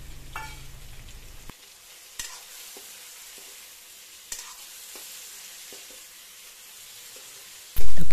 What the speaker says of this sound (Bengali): সেদ্ধ করে রাখা যে আলুটা ছিল সেটা দিয়ে কিছুক্ষণ ভেজে নেব